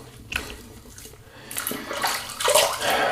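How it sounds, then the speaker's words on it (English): Running water splashing as a face is rinsed after a shave with a brass safety razor and shave soap, starting soft and growing louder and fuller over a few seconds. "Done. Rinse off."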